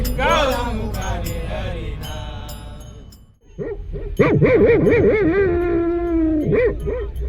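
A dog whimpers and yelps in drawn-out, wavering cries, loud and close, with a short pause midway before the whining resumes more intensely.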